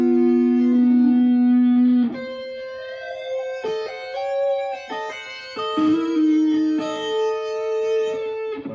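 Electric guitar run through a pitch shifter effect that raises the pitch up to a tritone, sustained distorted notes gliding and shifting in pitch, played alone without talk.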